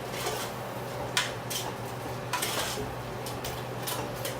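Masalas are mixed into rice in a pot for vegetable biryani, with light clinks and scrapes of a spoon against the metal pot over a faint steady hum.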